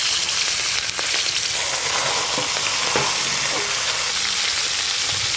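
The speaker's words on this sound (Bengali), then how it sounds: "এবার লবণ হলুদ মাখানো এই মাছগুলো কড়াতে একটা একটা করে বসিয়ে দেব।" Hilsa fish pieces coated in salt and turmeric fry in hot oil in a wok, giving a steady, close, loud sizzle and hiss with a few faint clinks, and no talking.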